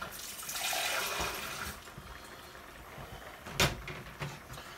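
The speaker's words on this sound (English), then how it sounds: "Now this might need a little bit more water" Water poured into a pot of fish curry base before the fish goes in, a soft splashing pour near the start, then quieter kitchen handling with a brief knock.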